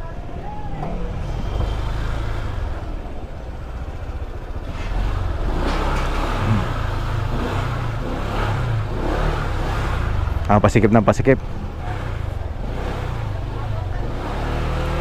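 A motorcycle rides along a narrow provincial road, its engine a steady close drone that swells briefly with a revving burst, while a rider talks over it.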